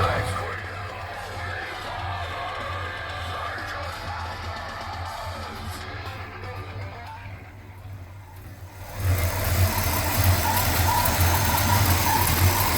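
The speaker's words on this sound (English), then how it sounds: "we're back to a running car" A 1965 car's engine idles with a steady low rumble, apparently with a spark plug wire arcing somewhere; it grows louder and rougher toward the end, with voices faintly underneath.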